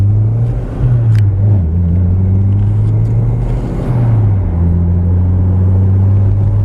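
A Toyota MR2 SW20 GTS's 3S-GTE turbo engine revs up, drops and climbs again in a loud, close rumble, rising and falling twice over a steady drone.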